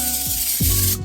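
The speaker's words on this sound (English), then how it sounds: "I found spraying the bottom of your air fryer helps to not get the Bonuts to stick as bad" Cooking spray hisses steadily from an aerosol can onto the bottom of an air fryer basket, one continuous close, loud spray lasting about a second before cutting off abruptly.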